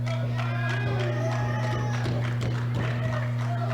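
Crowd noise at a wrestling match: a steady, dense roar of spectators with scattered cheers swelling underneath, running throughout beneath a constant low electrical hum.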